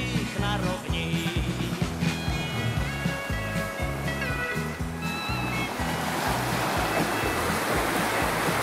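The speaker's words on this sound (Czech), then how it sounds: "To je more a toto tu vteká Dunaj." Sea waves wash where the Danube flows into the sea, heard as a continuous rushing surf over a low rhythmic music bed, with the wash swelling louder toward the end.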